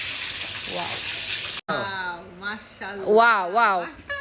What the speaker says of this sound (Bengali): এদিকে আমাদের মাছ ভাজা কিন্তু হয়েই গেছে